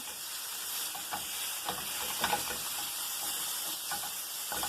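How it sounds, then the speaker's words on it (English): Browning mushrooms stirred in a hot pan, a steady close sizzle broken by repeated scraping and clicking of a utensil against the pan, no talk. "the mushrooms are getting a good brown on them. I'm going to give them a quick stir about"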